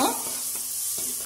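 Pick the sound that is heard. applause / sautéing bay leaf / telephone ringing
sautéing bay leaf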